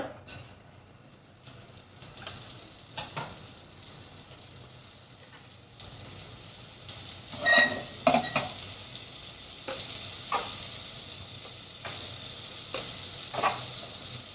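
Amul butter and a fine puree sizzle faintly in a pan, with intermittent louder spits, clinks and stirring bursts over a quiet background hiss.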